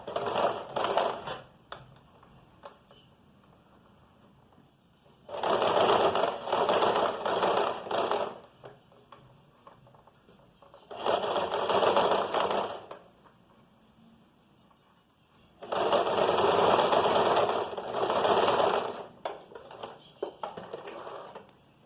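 A sewing machine stitches fabric in several loud, fast-running bursts of mechanical chatter separated by quieter pauses with faint handling noise. No speech.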